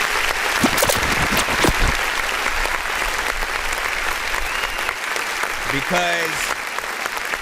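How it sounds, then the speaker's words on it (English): One person claps hands during a casual music review show, a brief burst of claps near the start before fading out, followed by someone talking at close range. "Let me clap for you first."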